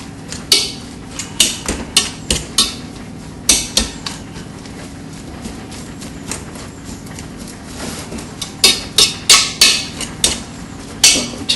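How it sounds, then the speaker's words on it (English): Food mashed with a fork in a pot while cooking a three-course dinner, sharp repeated metallic taps and scrapes in uneven bursts, close and loud, with a quick flurry near the end and no talking. "take a fork and mash. Do it the old traditional way."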